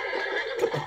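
A horse whinnies in Red Dead Redemption, a short, high, wavering call, close and fairly loud, with a slight electronic sheen typical of game audio.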